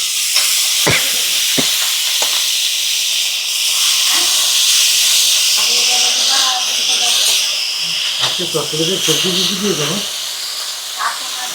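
Onion with salt, turmeric and chilli powder sizzles in hot oil in a home kitchen, a constant loud hiss with occasional stirring clicks, while voices talk over it in the second half.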